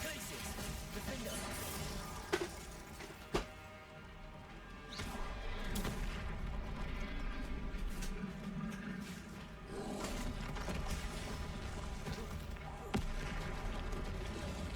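Bombarda explosion spells from Hogwarts Legacy on PS5 land as a few sharp, loud booms at intervals over a dense, continuous roaring game mix, with a voice faintly present.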